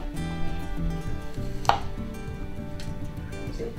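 A knife cuts an apple for an apple tart, producing one crisp chop near the middle against an ongoing tonal background, with no talking.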